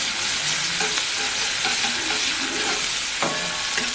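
Chopped onion frying in mustard oil in a wok, left from frying fish, with a continuous close sizzle and spatula scraping and stirring strokes, no voices.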